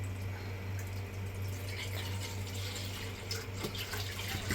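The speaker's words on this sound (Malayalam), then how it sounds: "അപ്പോൾ നമ്മൾ ഗ്യാസ് ഓണാക്കിയിട്ട് നമുക്ക് പാൽ ഒഴിക്കാം." Milk pours into a pan on a gas stove in a home kitchen, a soft continuous liquid stream over a low steady hum, heard close and quiet with no speech.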